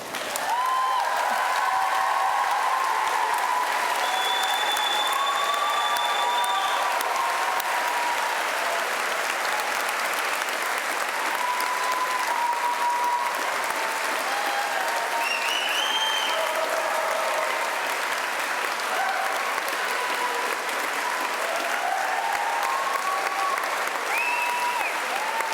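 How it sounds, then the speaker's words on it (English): Graduates and guests at a Cardiff University graduation stand and applaud their lecturers, a loud, sustained wash of clapping filling a large hall, with a few faint tones and murmurs threaded through it. "spare a moment and a little applause for the lecturers who have helped you and taught you over the course of your studies here"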